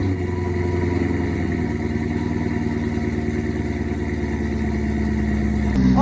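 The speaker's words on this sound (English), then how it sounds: "Now the C5 has long tubes, meaning it has no cats, and then it has an aftermarket catback on it." A Chevrolet Corvette C5 with long tube headers, no catalytic converters and an aftermarket catback exhaust idles after a cold start, a steady, loud, low rumbling drone with no voices.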